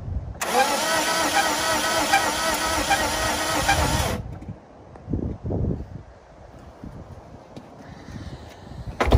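A Datsun 280Z engine cranks over on the starter during a cylinder compression test on piston number five, a loud, steady rhythmic churning for about four seconds that stops abruptly, followed by quieter workshop clatter and handling noises.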